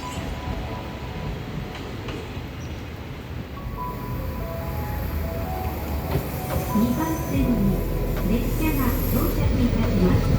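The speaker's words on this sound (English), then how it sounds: "Gonna get on a train, not this one that's coming" A train rumbles into a station in Otaru on the Sea of Japan, a steady low roar swelling as it nears, metallic hum and squeal rising, voices murmuring faintly on a windy day.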